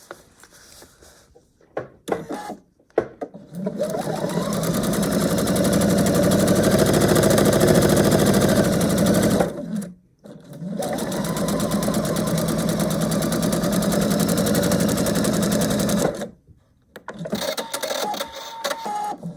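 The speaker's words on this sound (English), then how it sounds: "So we're going to go and sew that." A sewing machine runs through foundation paper pieced quilt block pieces in two long, loud, steady stitching runs, each several seconds, with short handling noises before, between and after.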